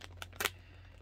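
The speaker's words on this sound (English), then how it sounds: "Well, cut into it with my X-Acto knife and hope I don't cut anything." An X-Acto knife slicing into a plastic package, a quick close crinkle and rip in two brief bursts, the second louder, over a low steady hum.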